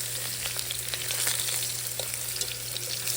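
Beef short ribs sear in hot oil in a pan, giving a steady, close sizzle and crackle of frying with faint scraping from stirring or turning, and no talk.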